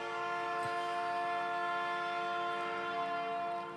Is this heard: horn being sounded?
yes